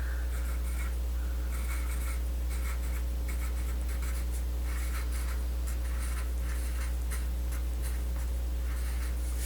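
A pencil scratches across paper in short, rhythmic strokes while a diagram is drawn. The scratching is close and fairly faint over a constant low electrical hum.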